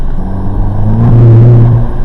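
A car engine hums and then revs up briefly while driving on light snow accumulation, loud and close, with a low steady rumble underneath.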